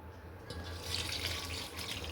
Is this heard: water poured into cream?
yes